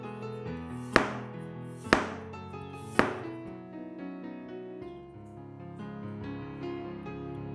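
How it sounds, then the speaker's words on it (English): Three sharp, evenly spaced knife chops through ginger slices on a cutting board ring out clearly one after another, followed by quiet with soft background music. "Let's start by cutting up 3 slices of ginger."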